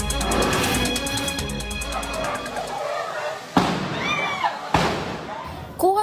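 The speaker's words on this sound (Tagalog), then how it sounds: "Kuha sa videong ito ang pagsabog na galing umano sa nasusunog na LPG." Burning LPG tanks exploding in a store fire in Caloocan City at dawn: sharp, loud blasts and thuds punctuate a noisy scene, with several distinct bangs heard in the second half.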